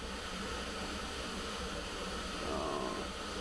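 Pink noise test signal played through an audio system: a constant, even broadband hiss, steady in level from start to finish, quiet and with no voices.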